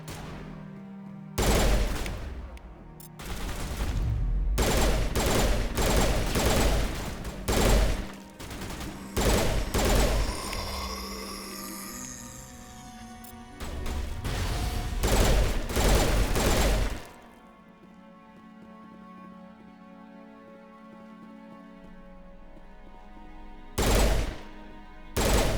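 A squadmate's gun firing in Mass Effect, loud repeated bursts of rapid shots separated by short pauses, then a quieter lull with a few final shots near the end.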